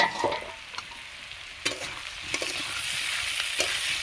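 Green jackfruit curry with spices is stirred in a pan, a steady close sizzle with sharp scraping and clinks of the spoon against the pan at irregular intervals, and no talk.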